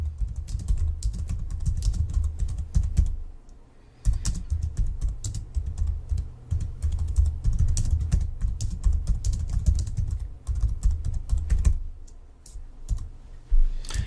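Rapid, steady typing on a computer keyboard, close and clear, with brief pauses between bursts of keystrokes and no talking.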